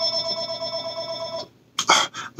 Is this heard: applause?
no